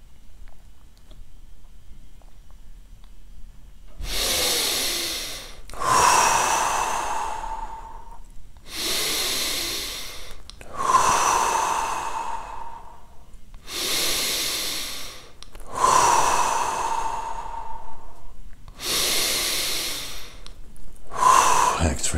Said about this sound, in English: Deep, breathe in from the sun into your heart. Empty your lungs.